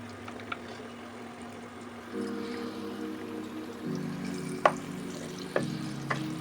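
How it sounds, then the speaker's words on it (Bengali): Lentil fritters (bora) fry in oil with a faint, steady sizzle, and a few sharp clicks come as they are turned. A low hum runs underneath, and no one speaks. "এভাবে উল্টে পাল্টে বেশ লাল লাল করে ভাজতে হবে।"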